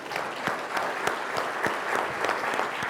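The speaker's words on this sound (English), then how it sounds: "Let's give her a round of applause" Audience applause for Melinda Wilner, a chief operating officer, at a business event: steady, dense clapping from a crowd filling the whole stretch at an even level.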